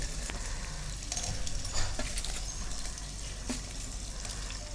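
Whole spices (cumin, cinnamon, cloves, cardamom, bay leaf and biryani flower) sizzle and crackle steadily in hot oil for a chicken biryani tempering, a close, continuous hiss with occasional sharper pops and no talking.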